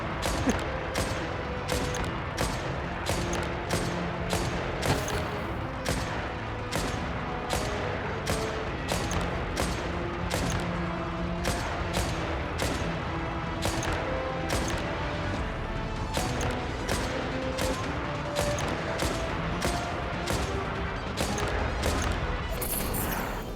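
Rapid, repeated gunfire from a sniper fight in Genshin Impact, sharp cracks and impacts spaced across the whole stretch over a dense bed of game music and effects, loud and continuous.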